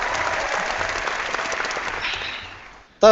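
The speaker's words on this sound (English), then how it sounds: "That's the round of applause" Studio applause on a cosplay podcast, a burst of steady clapping that dies away after about three seconds before a voice starts speaking.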